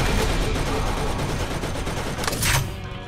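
Dense, continuous gunfire from enemies in the shooter game Borderlands hammers away at close range, with a rapid fusillade of shots blending into a loud roar and a sharper burst near the end.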